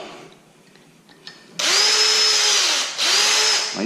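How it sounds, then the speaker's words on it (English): A power drill bores holes through Nissan Titan tracks: after a few quiet taps, a loud high whine starts, runs about a second and a half, dips briefly, then spins up again. "What I'm going to do is drill through those holes"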